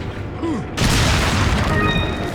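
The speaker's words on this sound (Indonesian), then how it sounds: "Kan meledak dinamitnya." A loud dynamite explosion in Resident Evil 4 bursts in suddenly after a short moment, then its booming, crackling roar rolls on steadily.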